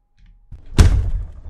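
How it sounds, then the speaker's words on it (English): A door in the Ghost of Tomorrow video game gives a single heavy thud after a short faint rumble, and a low resonant tail lingers afterward. "It might be the door!"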